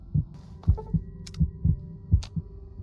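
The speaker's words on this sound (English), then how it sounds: "I need to find a bed on the floor somewhere so I can heal and get rid of this heartbeat." A low-health heartbeat in the Fallout 3 game thuds in a slow, steady double-beat rhythm over a low hum. The throbs are close and heavy, with no talk.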